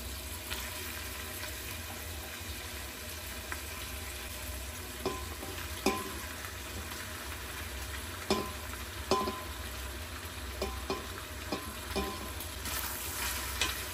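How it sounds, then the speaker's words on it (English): Pork and onions sautéing in a pan for a Japanese pork and potato dish simmered with soy sauce, a continuous close sizzle with occasional light clicks of a utensil stirring. "Then saute the onion for a minute or two."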